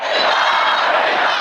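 Hundreds of party faithful around Iran's president shout together in a dense, loud crowd roar that holds steady for a brief moment.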